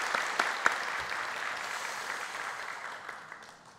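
Church congregation applauding together during a Sunday worship service, a broad steady wash of clapping that starts strong with a few sharp claps and slowly fades over several seconds.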